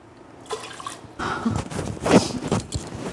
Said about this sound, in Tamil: ஒரு டம்ளர் தண்ணி ஊற்றிருக்கேன்.